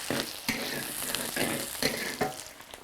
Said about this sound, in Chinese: 洋葱爆香